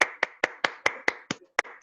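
Clapping during an online evening class, about nine sharp, separate claps in a steady rhythm, close and clear with no talk.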